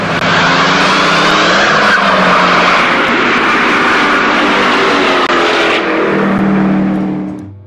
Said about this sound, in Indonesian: I have never in my life seen a car that could accelerate so quickly.